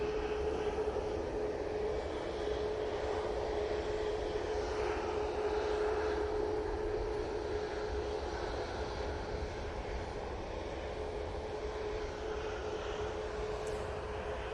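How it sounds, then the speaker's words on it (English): Ryanair Boeing 737 MAX 8 jet departing Manchester Airport for Barcelona, a continuous engine rumble with a steady whining tone running through it, fairly distant and even in level, no voices. "Next out will be the Ryanair going off to Barcelona, this time using the 737 MAX 8."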